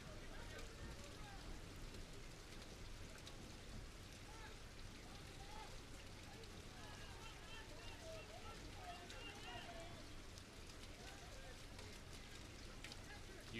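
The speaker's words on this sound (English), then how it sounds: "The rain falling as hard as it has the entire game." Heavy rain pours steadily onto stadium stands at a men's soccer match at Pioneer Field, a dense, continuous hiss and patter heard at a distance under commentators' talk.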